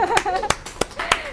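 Four sharp hand claps at a slightly uneven pace over a second and a half, heard close and fairly loud, with voices talking around them.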